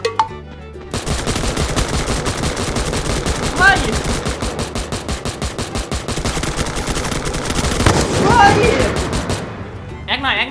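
Rapid automatic gunfire from the Free Fire video game rattles loudly and almost continuously, with bursts of shots running throughout, while excited voices shout over the shooting.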